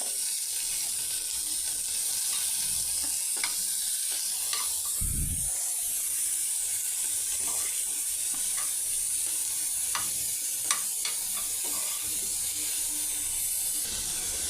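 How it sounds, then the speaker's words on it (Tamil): Sandwich filling for a bread corn sandwich sizzles steadily as it sautés in lightly heated oil, a continuous close frying hiss with a few soft stirring scrapes and no talk. "இப்போ எண்ணெய் லைட்டாக சூடாகிடுச்சு. இப்போ இதை வந்து போட்டு நம்ம வதக்கிக்கலாம்."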